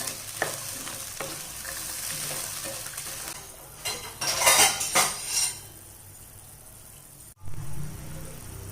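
A utensil stirs and scrapes in a pan as jaggery dissolves into water for sago halwa, giving steady soft scraping and light clinks with a brief louder burst of stirring midway, close up and without talk.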